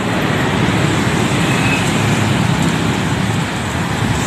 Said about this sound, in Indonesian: truk kuning